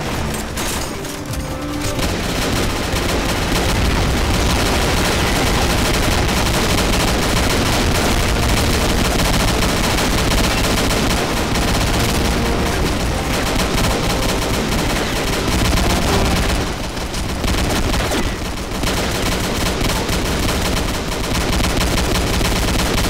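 Machine gun fire from the Combat Arms video game rattles in long, dense, continuous bursts at high loudness, broken by a couple of brief pauses.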